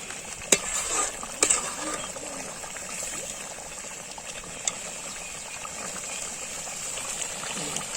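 Meat frying in a pan outdoors beside a well: a steady, moderate sizzle with a few sharp scrapes and clinks of stirring.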